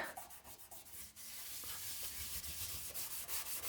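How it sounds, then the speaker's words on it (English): Hand sanding inside a stripped car interior, switching between 320 grit sandpaper and a red Scotch-Brite pad, gives a steady close scratchy rubbing. The strokes come in quick repeated passes and run without a pause after the first second. "I was switching between the 320 grit sandpaper and the red Scotch-Brite pad"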